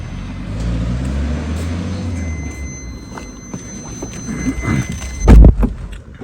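A modified Honda Civic drives with a steady engine drone that eases off midway, followed by a sharp thump and rattle near the end.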